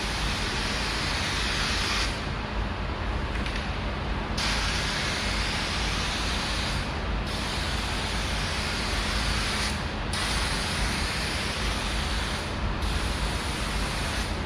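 Rust-Oleum bed liner is sprayed from an aerosol can onto a mini truck, a steady hissing spray in repeated long bursts with brief pauses between them.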